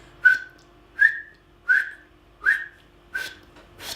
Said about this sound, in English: as you put the call up to your lips, try to whistle the word hot.